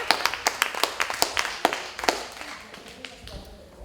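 Audience members at a talk clap in an uneven burst of sharp, close handclaps that thins out and fades within a few seconds.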